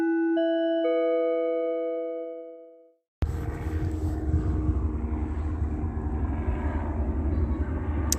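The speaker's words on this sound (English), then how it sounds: "That is a helicopter flying over me" Helicopter flying overhead on a city street, a loud steady low rumble with rotor chop that sets in abruptly after a few seconds of ringing bell-like electronic tones and then holds without pause.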